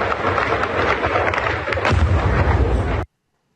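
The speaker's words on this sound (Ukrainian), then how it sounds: "дуже потужний вибух" A heavy, roaring wartime explosion with rumbling low-end boom and crackling debris, loud and sustained for about three seconds before cutting off abruptly.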